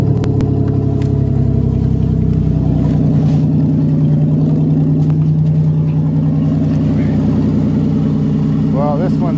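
A 1990 Buick Century with the 3300 engine idles after a winter cold start, a steady loud low rumble running throughout with some faint speech mixed in.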